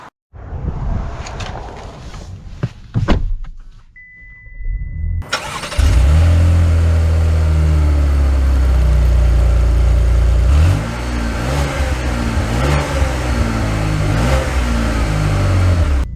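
A 2023 Cadillac XT5 starts with a few mechanical clunks and a brief lull, then its engine roars up loud and close into a sustained acceleration. The drone eases slightly partway through and carries on steadily to the end.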